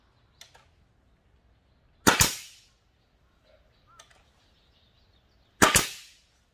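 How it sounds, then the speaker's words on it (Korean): Two loud, sharp staple-gun shots into hard imported wood while building a ginseng field roof frame, each a crisp crack with a short ringing tail, with faint clicks and handling noise between them. "타카를 한번 쏴 보겠습니다"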